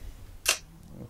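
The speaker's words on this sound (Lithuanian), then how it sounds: "Ir skaičiuoju iki 3 ir spaudžiu mygtuką." A single crisp camera shutter click is heard during a portrait session, one sharp mechanical snap at moderate level over quiet room tone.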